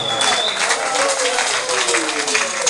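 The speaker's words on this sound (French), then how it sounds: "On l'applaudit tous, jusqu'à ce que ça cesse." Audience applause in a French-speaking gathering, a loud, continuous clatter of many hands with crowd murmur and faint overlapping voices beneath it.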